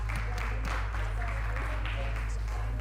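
An audience at a men's mental health conversation event claps for the timekeepers, a steady wash of hand claps over a heavy low hum, with some voices under it.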